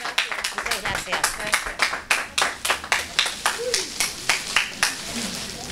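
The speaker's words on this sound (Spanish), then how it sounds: "le vamos a dar un aplauso" At a carnival prize-giving ceremony in Libertad, a crowd claps in a strong, regular rhythm, close and lively, with voices talking over the beat.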